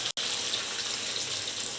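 Water poured into a pan of jackfruit and prawn curry, a steady, close, continuous splashing stream with only a brief break near the start.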